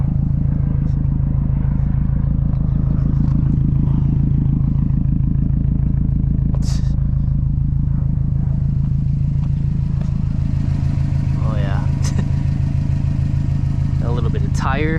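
A Stage 2+ Subaru WRX STI's turbo engine and new exhaust drone steadily and loudly while driving, with rattling clatter, while people talk over it.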